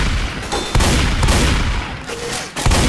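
Bursts of rapid gunfire in the video game Left 4 Dead 2 in quick volleys, loud and close, with brief pauses between the rounds.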